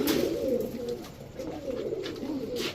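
Indian high-flyer pigeons coo in a steady, rolling, low murmur, with repeated throaty phrases close by and no voices.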